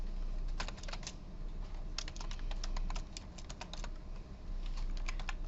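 Fingers clatter across a computer keyboard in bursts of quick, uneven keystrokes over a steady low hum, typing code close by during a programming lecture.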